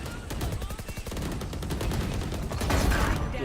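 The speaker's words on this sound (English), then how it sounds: "He's still got that Odin in hand. Just waiting to unleash a hail of gunfire." Rapid, sustained Odin machine gun fire in the Valorant video game, dense bursts of shots rattling close and loud for several seconds in a college esports playoff match.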